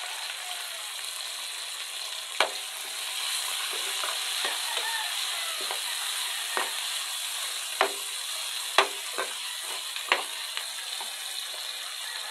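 Tomatoes fry in a pan under a constant, even sizzle, punctuated by several sharp clinks and scrapes from a utensil stirring, close up and with no voices.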